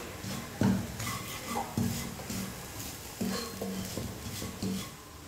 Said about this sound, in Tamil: முதல்ல தேங்காவை வெறும் கடாயில் நல்லா வறுத்துக்கலாம்.